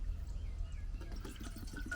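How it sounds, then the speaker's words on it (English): Water trickles and splashes into a kettle for a camp-stove cooking setup, a soft close pouring sound that grows busier in the second half, with no talk. "We'll put our water in the kettle."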